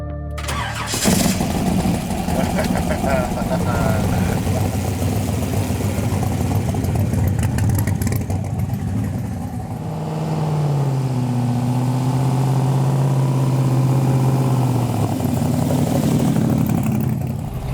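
A custom 1953 Studebaker with a twin-turbo engine running on race fuel: a loud startup burst, then a deep, rough, sustained rumble close by, with revs rising and settling into a lower idle later on.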